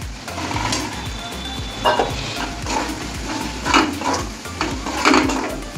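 Potatoes added to fried masala in a pan and stirred, with a spoon scraping and clanking against the metal pan in irregular bursts over a soft sizzle, close and fairly loud.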